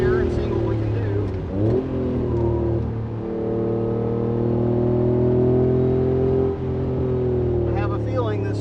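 A Honda NSX being driven on a race circuit at Waterford Hills in Michigan, its engine droning steadily and rising and falling in pitch through the gears, loud and close from inside the car, with someone talking over it.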